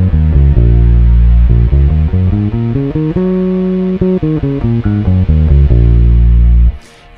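A 16th-note scale run played upward on a melodic instrument, a brief pause, then the same scale run back down, loud and alone with steady, evenly spaced notes.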